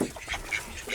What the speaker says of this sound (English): So this is where the Australian spotted ducks are living.